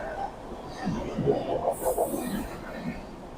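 Inside a moving early-morning passenger train near Khopoli, a steady low rumble of the carriage rolls on while a few louder rattles and clanks rise and fall, with no voices.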